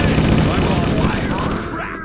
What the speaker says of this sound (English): So you got an actual assault rifle?